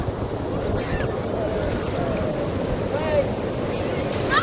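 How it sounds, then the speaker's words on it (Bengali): Sea waves breaking on the beach at Puri, a continuous rushing wash of surf mixed with wind buffeting the microphone, with faint distant voices and calls over the roar. "ঢেউ আসছে দেখো"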